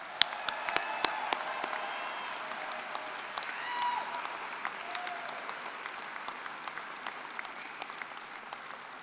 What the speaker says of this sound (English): please join me in giving our candidates a well-deserved round of